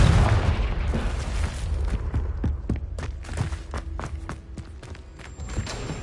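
Confringo fire spell blasts in Hogwarts Legacy, a booming burst followed by a rapid run of sharp cracks and pops, loud with rumbling low end.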